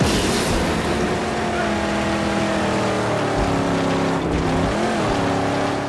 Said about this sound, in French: Un petit combat de moto, de voiture.